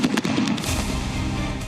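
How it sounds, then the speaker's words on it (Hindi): A fireworks show at a wedding gives a rapid burst of sharp crackling pops, loud and close, then a rumbling boom that trails off. "जिन्होंने अपनी शादी में आतिशबाजी का पूरा शो ऑर्गेनाइज करवाया"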